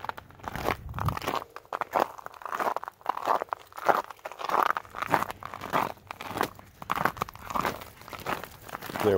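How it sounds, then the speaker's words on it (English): Boots fitted with metal ice chains crunch through snow and ice on a night hike with a Blue Bay Shepherd and a German Shepherd, making a close, steady rhythm of crisp, gritty steps throughout. "snow and ice crunching so hard under my feet too"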